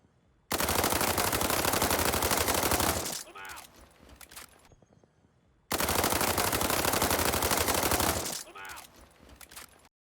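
An M4 rifle fires on full auto in the shooter game World War 3, two long, dense, loud bursts of rapid shots, each cut off and followed by a ringing echo tail, with a short quiet gap between them.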